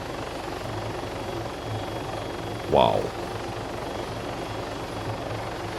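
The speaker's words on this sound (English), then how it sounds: "There are helicopters behind us, so I want to get a little bit out of here." Helicopters in the ArmA 3 video game drone with a steady low rotor rumble throughout, while a voice briefly exclaims over it midway.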